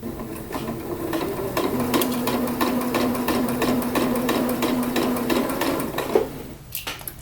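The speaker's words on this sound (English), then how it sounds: "when you're top stitching, you might want to go a little bit slower than normal just to make sure that you are stitching evenly and accurately" A sewing machine top-stitches a curved skirt hem using a longer straight stitch, running continuously at a steady pace. The whirring is close, with a rhythmic needle tapping throughout, and it stops just before the end.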